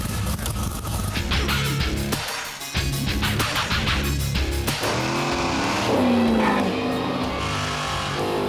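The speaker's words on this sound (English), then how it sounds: "Don't kill it on the burnout." Car doing a tire-squealing burnout before a drag race against a Porsche, with a loud revving engine and screeching, roaring tires sustained over several seconds close by.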